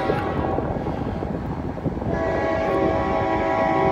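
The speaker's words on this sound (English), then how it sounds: "Looks like we might have a grain train coming here with UP power" A Union Pacific-powered grain train passes close by, a loud continuous rumble of rolling cars with a tonal horn-like hum that gets steadier in the second half.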